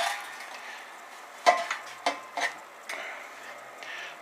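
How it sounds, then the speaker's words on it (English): A spoon stirring all-grain beer mash in a pot, a few soft clinks and scrapes spaced irregularly over a quiet background, close and faint. "I give it a little stir"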